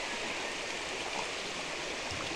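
A river flows in a steady, broadband rush of water that fills the whole stretch evenly, with no voices over it.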